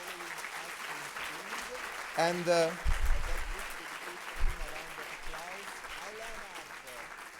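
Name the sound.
round of applause from conference audience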